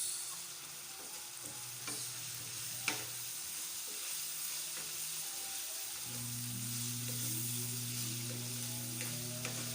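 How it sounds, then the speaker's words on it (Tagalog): Steady sizzling of pork frying in its own rendered fat, a continuous crackle with occasional soft clicks and a low background hum, no voices. "Pwede mo siyang iwanan para ma-prito siya sa sarili ng mantika."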